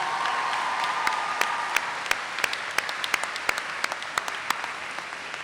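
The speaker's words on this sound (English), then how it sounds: "Can we give Luke another round of applause" Audience applause at the 2018 IMSA convocation, a broad, sustained wash of clapping from a large crowd, with a few sharper nearby claps standing out above the steady roar.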